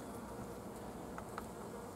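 Honeybees drone steadily in an open hive where a young mated queen heads a depopulated nucleus colony; the dense, continuous buzz fills the space up close with no talk.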